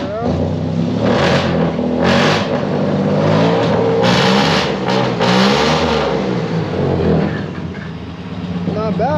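A 1939 Chrysler engine revs up and down loudly on a cold start, steady running broken by several throttle blips, with people talking over it close by.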